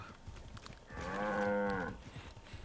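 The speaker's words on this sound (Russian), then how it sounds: "Так, коровки." A cow in Far Cry 5 gives one long, loud moo lasting about a second, with a rich harmonic tone. Faint game ambience sits before and after it.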